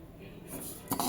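Roasted sesame seeds are stirred in a hot kadhai with a metal spoon, a short scraping rustle followed by a couple of clinks against the pan, close and fairly quiet.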